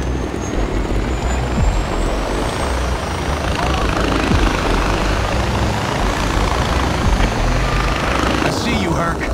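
A helicopter in the video game Far Cry 4 roars with steady, loud rotor chop and engine drone close by, while a voice talks over it.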